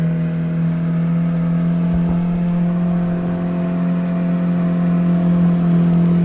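Yellow jeep grinding up a steep hill climb in Ngargoyoso, Karanganyar, engine droning steadily and loud at a constant strained pitch with no voices.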